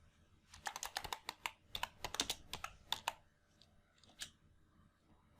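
Quick, light keystrokes on a computer keyboard tap out a short phrase in an irregular clicking run, close and quiet, then a couple of final taps, with no voices.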